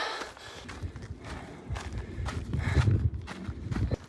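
Hooves clip-clop at an unhurried walking pace, a steady run of soft thuds and knocks close by with light background noise.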